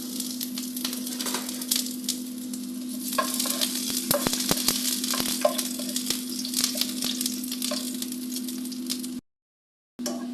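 Garlic sizzles steadily in hot cooking oil in a pan for a broccoli and oyster sauce stir fry, with close, continuous frying crackle and occasional stirring scrapes, then a brief drop to silence near the end.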